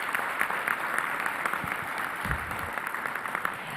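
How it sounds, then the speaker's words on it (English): Audience applause for committee members at a meeting, an even, continuous patter of many hands clapping in a large room, moderately loud with a faint murmur of voices underneath. "Please, you all, give these members a big round of applause."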